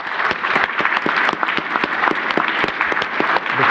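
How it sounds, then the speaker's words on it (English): Steady, dense applause from a conference audience at AltiumLive 2018, honoring the event's hosts. Many hands clap close together in continuous texture with sharp individual claps scattered throughout, sustained and fairly loud for the whole stretch, with no voices on top. "I request an applause for our friends at Altium."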